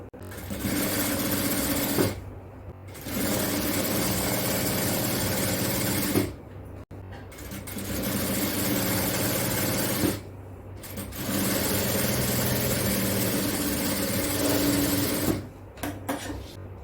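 A sewing machine stitches a kids' frock-style night dress during tailoring, running in steady loud bursts, each several seconds long, separated by short pauses.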